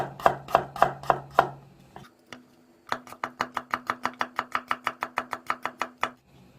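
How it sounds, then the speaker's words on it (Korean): Knife chopping vegetables on a cutting board while preparing shrimp soup: a run of five quick chops, a short pause, then a long steady series of about fifteen crisp, evenly spaced taps, close and clear with no talk. "그냥 마음대로 이렇게 돌려가면서 썰어주면 돼요"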